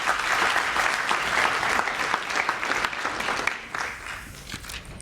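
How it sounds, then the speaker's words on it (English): A large audience at a youth summit competition gives a sustained round of applause for the judging panel, dense steady clapping filling several seconds before it starts to thin out. "Can we have a round of applause for our judging panel"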